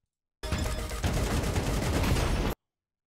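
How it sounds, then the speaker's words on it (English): Rapid burst of new AK rifle gunfire in Counter-Strike 2, loud, close and dense, rattling continuously for about two seconds with a brief shift in tone partway through. "And what is that new AK sound?"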